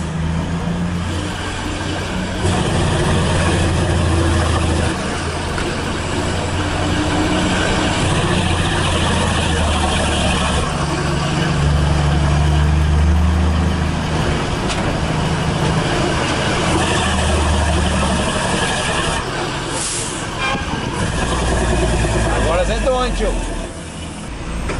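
Volvo FH truck engine in a driving game descending a mountain road, a steady low rumbling drone with shifting engine tones and faint rattles, under intermittent talk.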